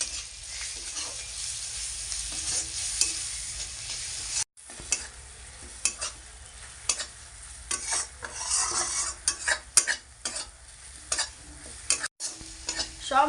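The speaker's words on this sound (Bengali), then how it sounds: "এখন আমি সব কিছু একসাথে ভালো করে নেড়ে চেড়ে কষে নেব।" Spices with salt, turmeric and red chili powder being stirred and fried in a pan for a fish curry, steady sizzle with repeated scraping strokes of a spatula, close and continuous with a couple of brief pauses.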